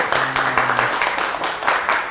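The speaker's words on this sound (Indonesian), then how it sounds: "Wah, luar biasa ya, tepuk tangan ya." Brief burst of audience clapping in a classroom after a computer repair demonstration, a dense patter of hands lasting about two seconds, with a short voice at the start.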